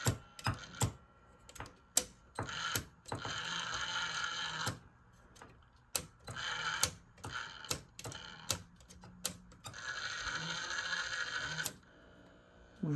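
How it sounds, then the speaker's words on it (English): The motor drive of a SABA Breisgau Automatic 125 radio runs with a fault, making faint, irregular clicks and ticks between bursts of buzzing, throbbing mechanical whir. "Yep, motor drive's working, sort of. Well, the motor's throbbing."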